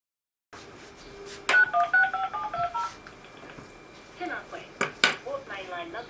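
Telephone keypad tones sound a quick run of distinct beeps while a number is dialed, standing out clearly, followed by softer clicks and clatter with faint voice-like sounds around them.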